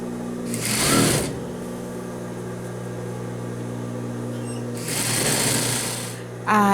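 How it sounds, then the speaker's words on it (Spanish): Sewing machine stitching the side seam of a pleated skirt with a yoke, running in two loud bursts with a pause between, plus a brief third start at the end. "Ya cosimos este costado con los 2 centímetros de pestaña, ya lo tenemos así."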